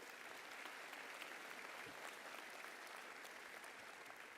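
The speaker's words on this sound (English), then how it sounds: "So clap it up for Captain Schaefer, please." Audience applause at a commissioning ceremony: steady, sustained clapping from a large crowd, even and continuous throughout.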